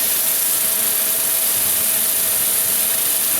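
Sandpaper rubbing against a natural edge wood bowl spinning on a lathe, a steady broadband hiss with a faint motor whine beneath, continuous and close.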